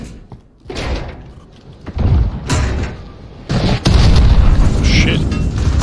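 Heavy rocket blasts in Call of Duty: Modern Warfare, several loud booming impacts spaced a second or two apart with lingering rumble, mixed with talk.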